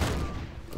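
A single epic-grade pistol shot in the sci-fi survival game Empyrion: Galactic Survival, one close, loud booming report at the very start that fades into a low rumbling tail.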